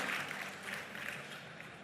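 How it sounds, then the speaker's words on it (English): Applause from an audience greeting a presenter at a tech demo event, steady broadband clapping filling the short span at moderate loudness, with no voices over it. "Can we have a big round of applause for him?"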